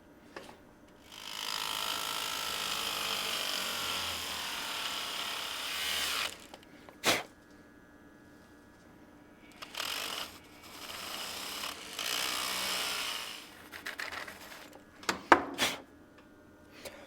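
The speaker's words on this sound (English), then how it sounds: "let's try with the Dremel, and let's try not to break anything" A Dremel rotary tool grinds material off a Roland TLR-7A, running in several bursts of high buzzing whine from a few seconds to a few seconds long, separated by short pauses and sharp clicks, close and fairly quiet with no talking.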